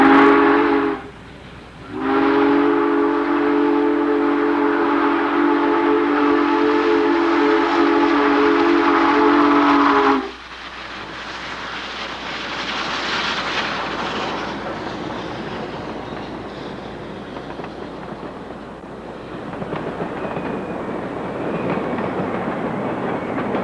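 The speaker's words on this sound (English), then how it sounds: "sit back and enjoy some great train watching as a variety of Bob's favorite Weaver engines pass through this scene." Weaver model trains rumble past on a trestle with a sustained whistle-like tone, then a steady rolling clatter of wheels continues, close and fairly loud.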